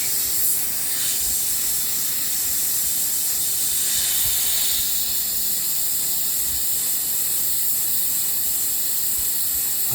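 Airbrush spraying paint onto a miniature storm giant figure, a steady close hiss of air that runs without a break and swells slightly now and then.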